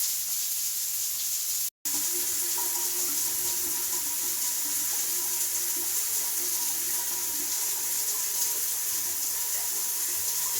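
Hot water runs steadily from a shower fitted with a 12V solar heater, a continuous close hiss of flowing water that barely changes, broken once by a brief dropout.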